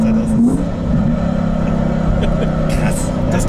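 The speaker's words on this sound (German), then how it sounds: "jetzt geben wir nochmal einen Pull hier mit Klappe auf" A 700 hp G-Power BMW E92 M3 with its exhaust flap open roars loudly and continuously as it accelerates hard, the engine note climbing steadily through the pull from close up.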